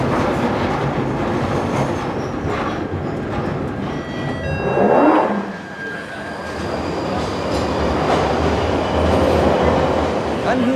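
A London Underground train rumbles loudly through a tunnel between Leicester Square and Tottenham Court Road, with wheels rattling on the track and a brief rising squeal midway, running continuously throughout.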